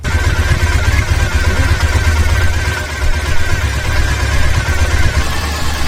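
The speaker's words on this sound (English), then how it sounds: "Basically, they want you to run the bike for 5 minutes, just at idle." A Triumph Bonneville motorcycle engine idles steadily after an oil change, a close, even low rumble with a faint mechanical clatter holding constant throughout, with no voices.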